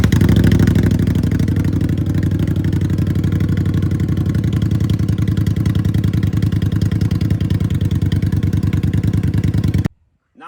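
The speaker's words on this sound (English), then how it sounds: "let's see how loud is the 21 bobber 60 with the same pipes" A 2021 Indian Scout Bobber Sixty motorcycle on a cold start, idling loud and steady through its exhaust pipes with a constant throbbing rumble for about ten seconds before cutting off abruptly.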